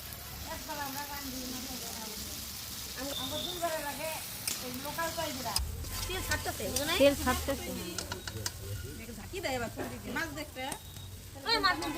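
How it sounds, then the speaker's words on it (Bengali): Fried dried fish with onion, garlic and chili paste cooks in a pan at a home picnic, a low sizzle and stirring running beneath people talking throughout. "শুকনো মাছ ভাজা দিয়ে রেখেছিল ওগুলো দিয়ে দিলাম"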